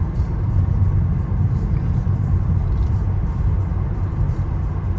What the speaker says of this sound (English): Tesla driving on his own.